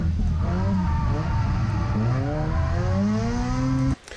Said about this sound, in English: a lot of people go into it and e-brake to scrub off speed